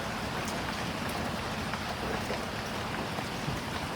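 Steady rain falling outdoors on a morning amid greenery, a dense, even patter with scattered louder drops, close and continuous with no voices.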